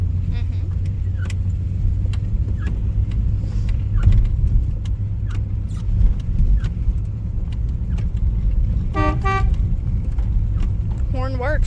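A 1954 Hudson Hornet's horn gives two short, bright honks near the end, sounding over a steady low engine and road rumble.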